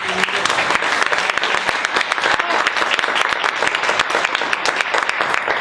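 Loud, dense audience applause at a university forum in Universum, many hands clapping vigorously and continuously for several seconds, close and sustained.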